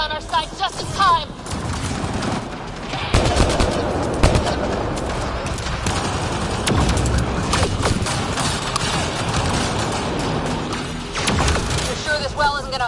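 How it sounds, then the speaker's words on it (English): Automated turret in the Mass Effect: Andromeda video game firing in rapid bursts of gunshots, with thuds and impacts layered through a busy combat mix. "Looks like we got that turret on our side just in time."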